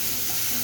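Chopped onion frying in a pan of oil with bay leaves and a little sugar for a chicken curry gives a brief, steady, close hiss of sizzling with no voices.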